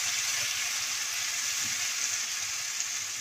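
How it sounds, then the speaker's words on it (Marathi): Mashed vegetables hit a hot pan and are stirred in with whole cashews for a sweet-sour fatfad, a steady close hiss of frying with faint stirring beneath. "आता ही घोटलेली भाजी ओतूया. व्यवस्थित मिक्स करूया."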